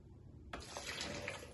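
Water is poured into a pan of vegan restaurant-style shahi paneer, a soft splashing rush that begins suddenly about a third of the way in and keeps flowing quietly.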